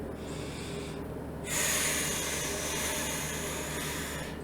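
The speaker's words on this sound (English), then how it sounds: "And now we're just going to inhale and exhale." Deep breathing during a calming exercise: a quieter drawn-in breath followed by a long, forceful, close exhale rushing out through the nose and mouth, with no talking.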